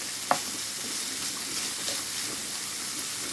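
Pancetta and garlic sizzle and fry steadily in a pan while a wooden spoon stirs through them, with a faint knock near the start over a constant close frying hiss and no talking.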